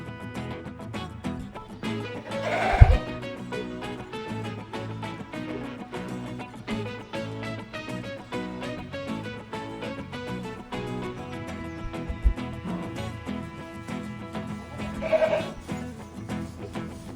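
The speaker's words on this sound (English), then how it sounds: "Goat" A goat bleats a few times across a long stretch of rhythmic background music, with two louder, distinct bleats standing out, one near the start and one near the end.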